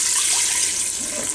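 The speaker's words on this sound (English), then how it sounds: "I've got a little bit over a cup of this beef broth here down in this measuring cup, and we'll dump right in there" Beef broth is poured from a measuring cup into an Instant Pot, giving a brief steady rush of liquid, close and fairly loud, with no talking.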